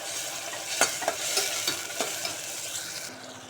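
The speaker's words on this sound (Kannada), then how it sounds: "ಈರುಳ್ಳಿ, ಬೆಳ್ಳುಳ್ಳಿ, ಶುಂಠಿ, ಹಸಿಮೆಣಸಿನ್ಕಾಯಿ, ಟೊಮಾಟೊ ಎಲ್ಲ ಈ ಪೇಸ್ಟ್ ಹಾಕಿ ಚೆನ್ನಾಗಿ ಒಂದು ಹಸಿ ವಾಸನೆ ಹೋಗುವವರೆಗೂ ಒಂದು ಫ್ರೈ ಹಾಕಿ." Onion, garlic, ginger, green chili and tomato paste frying in a pan for a peas pulao, with close sizzling and a handful of sharp stirring scrapes over steady frying hiss.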